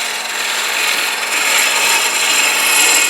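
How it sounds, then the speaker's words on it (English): A spindle roughing gouge takes a light, smooth cut on spinning wood on a lathe, giving a steady, close hiss of shaving that holds even throughout with no talk. "you can get a smooth cut with a spindle roughing gouge just by canting the angle a little bit"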